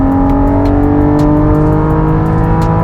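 A Porsche 718 Cayman GT4 flat-six climbs in third gear toward its 8,000 RPM redline on an open road, a loud, steady, rising engine howl heard from inside the cabin with no talking.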